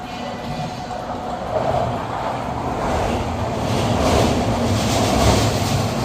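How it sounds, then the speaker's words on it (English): A low, continuous rumble of a tram grinding steadily uphill along its track in Malaysia, swelling slightly as it nears, with no voices. "There's a tram making its way up."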